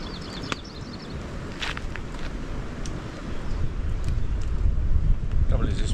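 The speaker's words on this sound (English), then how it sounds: "this wind is swirling around so much" Wind gusts and buffets around an outdoor campfire, roaring against the microphone and building in strength, with occasional crackles and rustling movement nearby.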